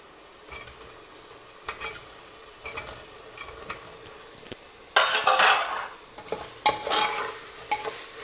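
Green gram pieces are stirred into a tomato and yogurt masala in a pan with a spoon, giving repeated scraping strokes and light sizzling, with a louder, busier stretch of stirring midway.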